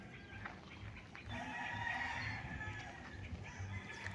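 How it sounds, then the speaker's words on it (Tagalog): Chickens and a rooster at a backyard chicken coop on a property in Calauan, Laguna, clucking faintly at a distance under low ambient hiss. "Sa likuran nito mga kaprops, mayroong manukan."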